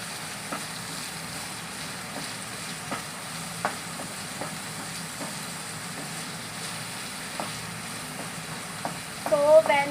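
Chopped onions fry in a pan with a soft, steady sizzle, and faint periodic scrapes from stirring grow into a louder rustle at the end; no one speaks.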